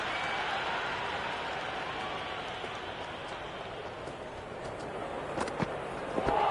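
Crowd in the cricket video game Cricket 26 applauding, a steady wash of distant clapping and murmuring from the stands that runs throughout, with a few sharper claps near the end.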